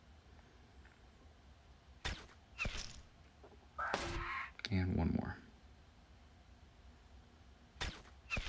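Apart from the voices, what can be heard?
gunshots in the video game Battle Nations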